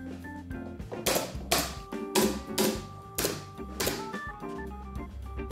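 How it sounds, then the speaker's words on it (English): Trim is being glued onto a kitchen island and fastened with a nailer, producing a series of sharp taps and thunks at an irregular pace, close and fairly loud, with no voices. "The nailer just holds it in the right spot until the glue dries."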